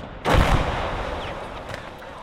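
White phosphorus artillery round fired in Gates of Hell: Ostfront, a single heavy boom followed by a long rumbling, hissing tail, fairly loud and alone.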